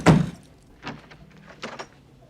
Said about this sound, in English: Slams the door, opens it again.